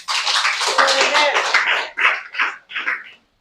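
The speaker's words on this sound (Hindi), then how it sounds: "अच्छा लगा तो ताली बजाओ।" Church congregation at a Sunday sermon claps in short uneven bursts, loud and close, that break up and trail off into separate patches before stopping.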